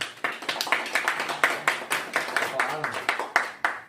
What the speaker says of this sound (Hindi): तालियां नहीं बजेगी?